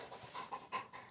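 A pug pants in short, uneven huffs indoors, faint and close, with brief snorty breaths and no talking.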